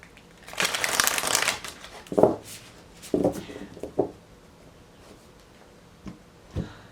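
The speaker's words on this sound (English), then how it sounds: "One more shuffle." Tarot cards are shuffled in a long riffling burst, followed by a few quick taps and shuffles, close and fairly quiet.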